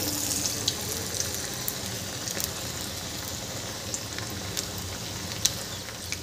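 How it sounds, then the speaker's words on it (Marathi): Mixed dal vadas deep frying in hot oil, a steady soft sizzle and bubbling with small crackles and pops scattered throughout, close and fairly quiet, no voices. "असे वडे सोडून घ्यायचे आणि याला छान सोनेरी रंगावर तळून घ्यायचे"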